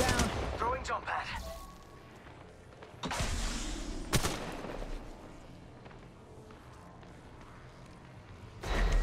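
Gunfire bursts in Apex Legends Mobile: a few sharp, loud shots and impacts spaced apart at the start and near the end, separated by quieter stretches of game ambience and character voice lines.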